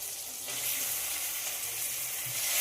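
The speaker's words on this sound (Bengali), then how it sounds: "সব কিছুর সঙ্গে চিকেনটাকে খুব ভালোভাবে কষিয়ে নিতে হবে।" Boneless chicken frying in a tomato masala that has begun releasing oil, a continuous bright sizzle that swells slightly as it goes, close and steady with no speech.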